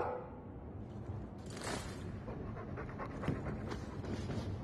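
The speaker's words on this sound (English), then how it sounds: "That's a good dog." A hound dog in the video game Dragon Age II pants in quick, steady breaths, faint and close, over a low background ambience, with no talk.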